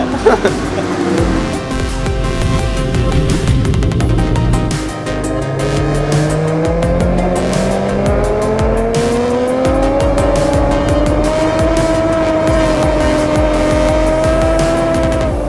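A 2017 Suzuki GSX-R1000R superbike lapping a race track, its engine screaming loud and close throughout, with rising pitch through the gears and steady high revs.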